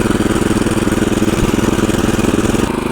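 A motor cultivator tilling soil at a dacha in second gear: its small engine chugs loudly and close with a fast, even pulsing beat throughout.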